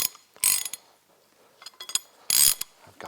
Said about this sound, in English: I've got this big ratchet